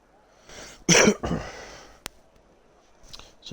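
A person coughs close into a headset microphone during a sim-racing broadcast, two harsh bursts followed by a faint click and a quieter throaty sound.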